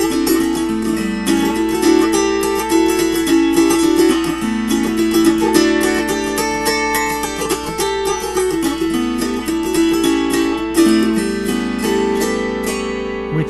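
Autoharp open chording moving between seventh and ninth chords on a special Prizim setup: steady, dense strummed chords ring loud and close throughout, with rhythmic strokes and shifting harmonies.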